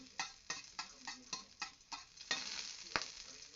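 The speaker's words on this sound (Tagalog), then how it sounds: "So, gisa natin ang bawang." Garlic sautéing in a hot pan makes a quiet, close sizzle. About eight rhythmic scraping strokes of a utensil stir it, then the sizzle swells briefly near the end. No one speaks.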